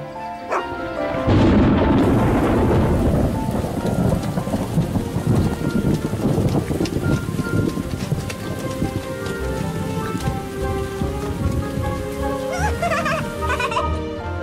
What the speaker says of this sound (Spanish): Se acerca una gran tormenta.